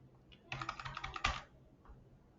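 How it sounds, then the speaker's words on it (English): Brief burst of typing on a computer keyboard, a quick cluster of close, crisp key clicks lasting about a second in an otherwise quiet room. "I'll just type in something random"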